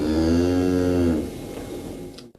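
A cow moos in a cattle barn on a Fukushima farm, one long, loud, close low call that fades into quieter barn noise.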